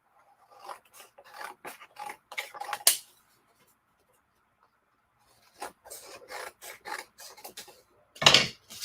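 Scissors or a trimmer cut through a piece of watermelon-colored cardstock in a series of short, dry rasping snips, pausing for a few seconds before a brief run of further cuts and one sharp final snip.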